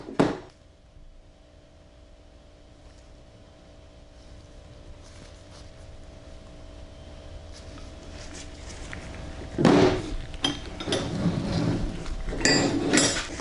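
Williams combination wrenches, including a 3/4 inch one, clink and rattle against each other as they are picked up and handled. Metallic clatter comes in short bursts near the start and again toward the end, with a quieter stretch between.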